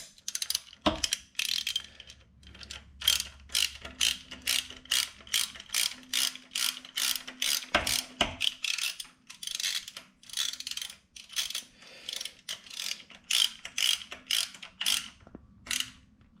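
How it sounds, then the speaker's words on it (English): Ratchet wrench tightening spark plugs, with repeated quick clicking pawl bursts in an uneven rhythm close by and brief pauses between strokes, no speech. "So we'll get that torque down, and should be good to go."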